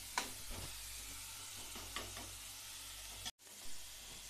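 Chopped tomatoes frying in a pan give a soft, steady sizzle with a few light stirring scrapes. The sound is faint and cuts out briefly near the end.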